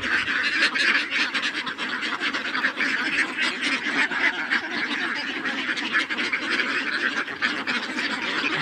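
A flock of ducks raised on an open field quacks almost without pause. The loud, overlapping calls go on throughout at close range, with no clear speech over them.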